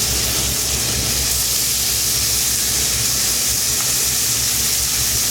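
Bacon sizzles loudly and steadily in a hot pan, a dense continuous hiss and crackle with no break for the whole stretch and no talking over it.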